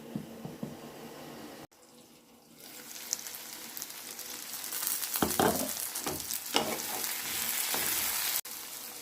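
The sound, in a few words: spinach frying and being stirred in a pan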